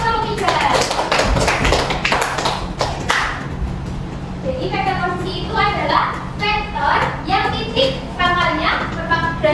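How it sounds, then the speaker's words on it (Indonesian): Students in a high school maths class clap their hands in a dense burst of sharp claps for a few seconds, then the applause fades and children's voices talk over the room noise. "Oke, tepuk tangan"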